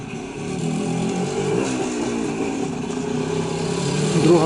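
A Voskhod 3M motorcycle engine drones steadily at a distance on a road, a continuous rough buzzing that swells slightly toward the end, with no voices over it.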